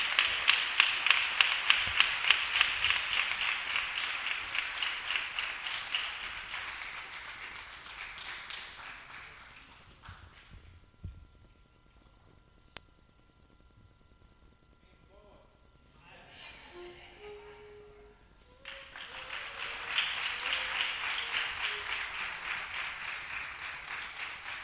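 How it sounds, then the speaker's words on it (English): Church congregation applauding during a sermon, loud sustained clapping that fades to near quiet with faint voices and a brief tone, then swells back into full applause. "let's give them a big round of applause."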